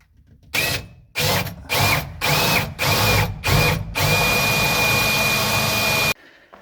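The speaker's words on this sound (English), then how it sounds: "I need to get through the wall there, so yeah, need to drill some holes." A power drill boring through a wall whirs in several short bursts, then runs in one long continuous push, loud and close, before cutting off abruptly.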